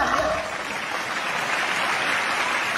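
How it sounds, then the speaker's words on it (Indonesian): Applause from a studio audience in an Indonesian comedy film, a steady wash of clapping that holds at an even level for the whole short stretch with no voices over it. "Boleh kita berikan tepuk tangan ya."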